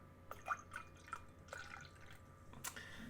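Beer poured into a small taster glass, heard as soft trickling and dripping liquid with a few light splashes, close and quiet against a faint background hum.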